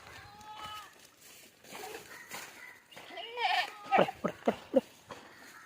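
Goats on a farm bleating repeatedly, several close, loud calls growing more frequent toward the end, mixed with people talking and some movement.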